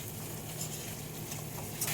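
Spice paste for an egg and potato curry frying in a pan, a soft, steady sizzle with faint patter and crackle throughout and no voices.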